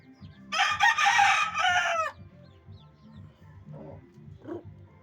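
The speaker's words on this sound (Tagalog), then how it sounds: "Gandang manok nito, guys." A rooster crows once, loud and close, a rising then sustained call followed by a few softer clucks and short calls from fowl over low background rumble.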